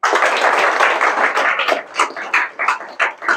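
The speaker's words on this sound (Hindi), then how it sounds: "एक बार जोरदार तालियां हो जाए" Audience applause from a crowd at a motivational seminar, dense continuous clapping that thins out into scattered, separate claps toward the end.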